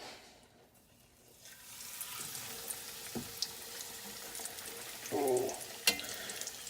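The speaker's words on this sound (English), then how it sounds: "whatever's touching the oil is going to start frying" Pork chops frying in oil, a steady crackling sizzle that swells after a quieter start, with a few sharp pops and a brief burst of hissing partway through.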